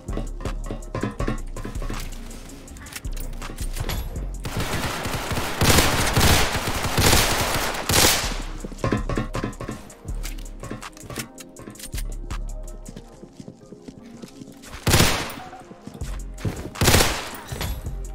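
A Beretta pistol fires repeatedly in the Roblox game Criminality, sharp close shots in quick bursts and scattered single cracks over about eighteen seconds, loud and punchy with brief gaps between volleys.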